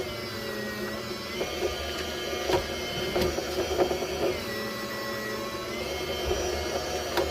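A 45W VEVOR electric deli slicer running steadily while slicing Colby Jack cheese: a continuous loud motor whir with faint repeated ticks and bumps as each slice passes.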